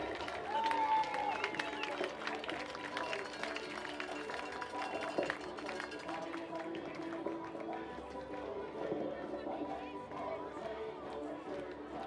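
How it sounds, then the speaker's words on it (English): Crowd applause for Mike Clark at a baseball game between the Toronto Maple Leafs and Barrie Baycats. A steady wash of clapping mixed with crowd chatter plays at moderate distance throughout, with an amplified voice over it. "One more round of applause for Mike Clark."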